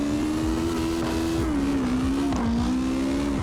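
A Hachi-Go drift car in CarX Drift Racing Online, a tuned but underpowered build, holds a steady, loud engine drone that rises and dips with throttle through a continuous drift, with faint tire scrub beneath it.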